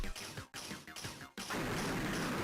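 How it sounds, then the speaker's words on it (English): A creature called a Glorbus in a Game Boy Advance game makes rough, crunchy bursts of noisy sound, several quick repeated pulses followed by a sustained harsh hiss, fairly quiet with no talk. "That's the sound of a Glorbus"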